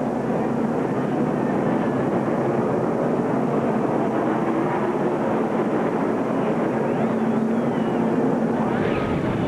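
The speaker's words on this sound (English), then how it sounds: "I think he's going to do a display of burnouts for everyone here" A NASCAR stock car doing post-race burnouts in turns one and two after the 2004 Food City 500 gives a steady, dense engine roar that holds at an even level throughout, with no voices.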